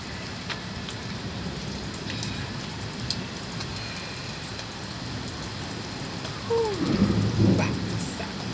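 Steady rain falling outdoors, a dense constant hiss with scattered droplet hits, joined near the end by a low rumble of thunder.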